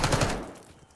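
Gunfire in Call of Duty: a short, loud burst of rapid shots at the very start, then a booming tail that fades over the rest of the second.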